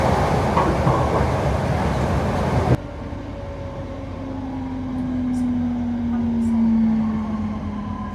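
A Northern train running on rails: a loud, steady rumble of wheels and carriage noise that drops to a quieter hum partway through, with a rising-and-falling whine from the motors underneath.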